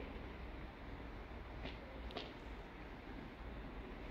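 The EuroCity 113 from Frankfurt am Main pulls into Klagenfurt Hauptbahnhof, a steady broadband rumble of the arriving train along the platform with a couple of faint squeals from the wheels.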